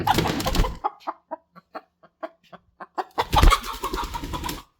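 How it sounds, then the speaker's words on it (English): A hen clucks in a series of short, evenly spaced calls, close and clear, between stretches of louder broadband noise at the start and end, in a shop where a new welder sits. "What are you doing in here, chicken?"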